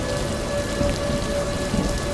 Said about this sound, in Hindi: और फिर मूसलाधार बारिश शुरू हो जाती है